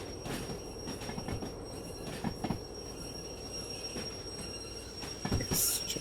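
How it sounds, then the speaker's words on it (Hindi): Freight train in the Derail Valley simulation braking as it nears a junction, with rumbling wagons, bursts of wheel and brake squeal and clanks, heaviest toward the end, no voices. "मैं ब्रेकिंग स्टार्ट कर देता हूँ ट्रेन की"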